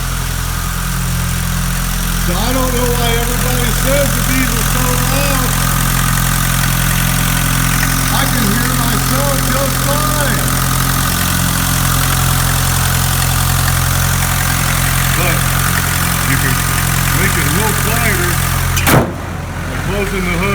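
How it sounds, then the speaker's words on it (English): A 1980 Mercedes 240D W123 diesel idles steadily with an even low clatter, heard up close while someone talks over it, ending with a sharp thump. "So I don't know why everybody says the diesel's so loud."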